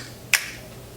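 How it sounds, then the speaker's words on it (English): A single sharp finger snap cracks out during a magic trick, brief and close against a quiet room, with no talk over it. "When I snap my fingers and I say go, they will go"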